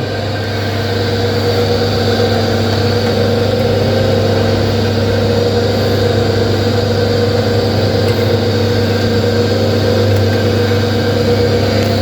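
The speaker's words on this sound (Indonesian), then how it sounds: "setelah kita memberikan tegangan dari output SVR ini ke motor" An electric motor powered from an SVR output runs steadily, a continuous loud hum with strong tonal drone and no speech, unchanging for the whole stretch.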